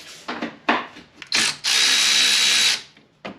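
A power tool whirs in short bursts, then runs in a longer steady spin, removing the brake caliper guide pin bolts on a Chevy Impala, loud and close, with no voices.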